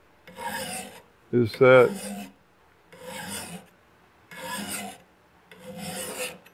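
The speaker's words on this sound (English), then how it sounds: "So I'm trying to start at one end and use all the teeth in the file from one end to the other" A hand file sharpens a spokeshave blade in five long, evenly spaced rasping strokes, close and crisp, with short pauses between them. Someone speaks briefly during the second stroke.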